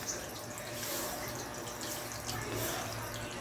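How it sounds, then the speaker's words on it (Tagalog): Tap water pours steadily into a concrete fish pond during a water change, a continuous close splashing rush with no pauses and no talking. "Galing sa gripo ang ginagamit kong tubig"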